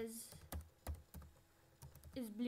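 Keys clatter on a computer keyboard in short irregular bursts of separate clicks, close and fairly quiet, with brief pauses between them and a voice speaking near the end.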